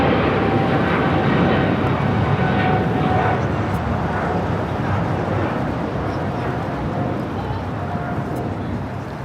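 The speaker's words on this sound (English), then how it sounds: "Our next heavy takeoff, Japan Airlines, flight 1-5, heading to Tokyo Haneda" A Japan Airlines Boeing 777-300ER makes a heavy takeoff at LAX, its engines a loud, steady broadband roar that slowly fades as the jet climbs away.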